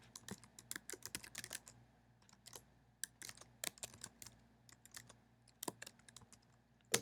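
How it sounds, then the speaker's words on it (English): Commands being typed on a computer keyboard in quick irregular bursts of sharp close key clicks, with short pauses between runs and no talking. "type in the commands."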